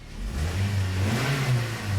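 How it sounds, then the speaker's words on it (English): A 2009 Toyota Corolla engine with a cylinder misfire runs steadily and close by, its uneven low rumble and faint revving continuing without break or talk. "This engine is misfiring."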